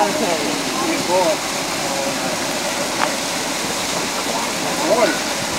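Water rushes steadily at a mill wheel in a continuous loud roar and splash, with faint voices in the background.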